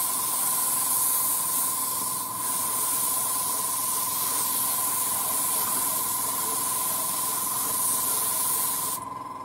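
Airbrush being cleaned while spraying, a continuous close, strong hiss of air with a steady tonal whine underneath and a brief shift in the spray near the end, with no voices.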